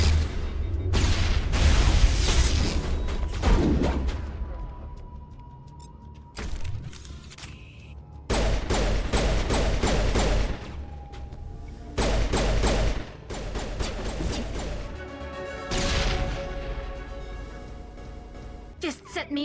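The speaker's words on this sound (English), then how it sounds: "This guy's got a rocket launcher" A Mass Effect Legendary Edition firefight with a rocket launcher, where loud bursts of gunfire and booming blasts come in separate waves between quieter gaps, with talk over parts of it.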